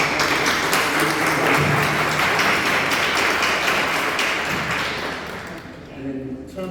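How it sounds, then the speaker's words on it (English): Audience applause at a Mount Vernon city council forum, a loud, sustained wash of clapping from a crowd that holds steady for several seconds before tapering off near the end. "we want to give them a round of applause"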